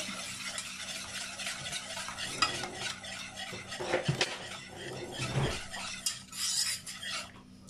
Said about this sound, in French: mon lait est chaud, donc je viens le mélanger